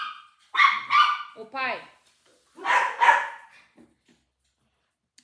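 Dogs bark close by in two quick clusters of sharp barks separated by a pause, and a voice briefly calls out between them.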